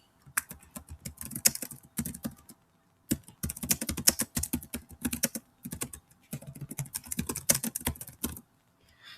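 Rapid keyboard typing in bursts of clicking keystrokes, pausing briefly between runs, close and clear with no voices.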